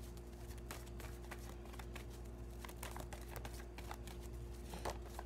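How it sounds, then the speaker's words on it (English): Tarot cards shuffled close up during a reading, a steady run of soft riffling flicks and papery slaps with a few sharper snaps, set against a low constant hum and no talking. "Damn, these cards keep popping out everywhere."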